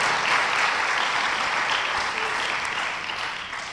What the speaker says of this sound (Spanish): Dele el aplauso al Señor, dele el aplauso